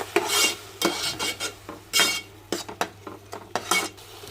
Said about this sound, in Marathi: आता आपण यामध्ये घालणार आहोत पालक. आणि पालक पण आपण 1-2 मिनिटावर परतून घेऊया.